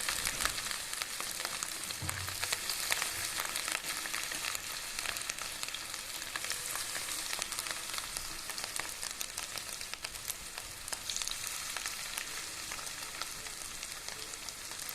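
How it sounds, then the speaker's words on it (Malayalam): Cauliflower frying in hot sunflower oil in a pan gives a steady, even sizzle and crackle that carries on throughout, with no talking. "എണ്ണ ഒന്ന് ചൂടായി വന്നതിന് ശേഷം ഘട്ടം ഘട്ടമായി നമ്മൾ ഫ്രൈ ചെയ്യാൻ എടുത്ത് വെച്ചേക്കുന്ന കോളിഫ്ലവർ ഇട്ട് കൊടുക്കാം."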